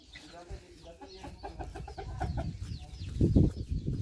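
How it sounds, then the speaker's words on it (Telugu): Free-range country chickens foraging in a garden cluck and chatter in a close, busy flock, with a scatter of short calls and some louder squawks toward the end. "తోటలో పెరిగే కోళ్ళు"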